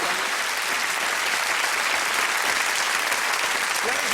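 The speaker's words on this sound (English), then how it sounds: "Give him a round of applause, please." A studio audience at a Beadle's About hidden-camera TV show recording gives loud, continuous applause, a dense wash of clapping held at a steady level from start to finish.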